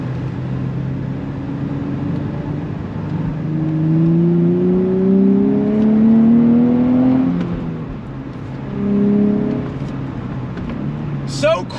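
Engine note of a 2023 Nissan Z Performance with a 6-speed manual, heard loud from inside the cabin, climbs steadily under throttle. After a gear change it pulls again briefly, then settles back.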